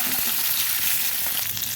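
Pumpkin stalks and green chillies fry in a pan, giving off a steady, bright, close sizzle with a faint stirring rustle and no voices.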